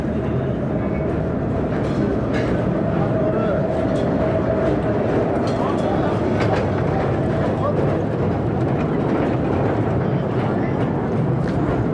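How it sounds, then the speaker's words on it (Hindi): A train rumbles along rails inside the Khewra salt mine, a loud continuous low roar and rattle that fills the enclosed space while people talk over it. "आगे से ट्रेन आ रही है"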